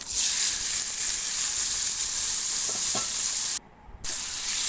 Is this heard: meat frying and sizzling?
yes